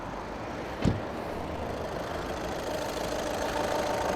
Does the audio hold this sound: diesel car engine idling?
yes